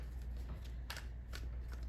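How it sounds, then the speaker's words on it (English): Tarot cards being shuffled by hand, a few quiet papery riffles and flicks in short bursts over a soft steady background hum, close and faint. "With this shuffle, one more."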